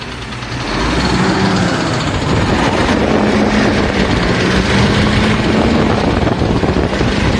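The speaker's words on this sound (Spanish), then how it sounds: "poner en marcha el motor y probarlo haciendo fuerza si es necesario" A diesel engine that loses power starts up and settles into loud, steady running with a rough, knocking rumble, heard close and alone throughout.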